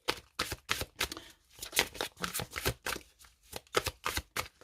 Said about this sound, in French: On va commencer par une coupe et après je vais demander 2 cartes pour vous les Gémeaux.